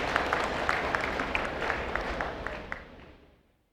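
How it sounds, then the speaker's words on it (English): Audience applause at the opening ceremony of the 2021 Philippine National Skills Competition, a dense steady wash of many hands clapping that fades out over the last second. "Let's give her a round of applause."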